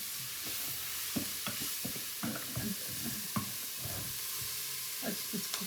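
Food fries in a pan at home with a constant bright sizzle, broken by irregular soft clunks and scrapes of stirring close by, no talking.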